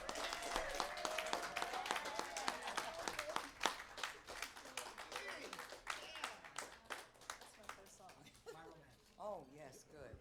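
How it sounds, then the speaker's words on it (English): An audience at an evening jazz salon in Los Angeles claps for a singer, a dense burst of applause that thins into scattered claps and fades, with a voice speaking near the end. "Please give her a riotous round of applause."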